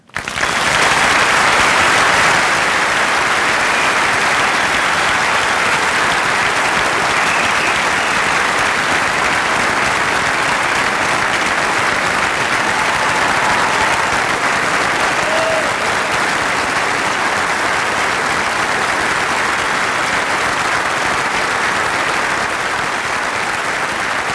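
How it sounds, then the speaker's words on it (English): A large commencement audience claps continuously and loudly for a long stretch, a dense, even wash of applause that barely fades. "Thank you for that applause"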